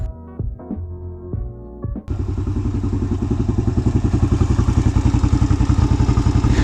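A motorcycle engine cranks briefly on its battery, then catches and settles into a steady, loud, throbbing idle close by, with no talk over it.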